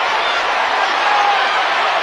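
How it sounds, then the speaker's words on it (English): Boxing arena crowd buzzing steadily at a women's bout between Shields and Daniels, a dense, continuous murmur of many voices with no single standout shout. "Crowd getting buzzed"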